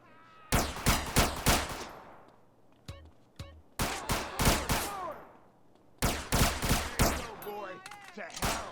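Rapid bursts of video game gunfire ring out in several loud volleys, each a quick run of sharp shots, with brief pauses between them and faint voices now and then.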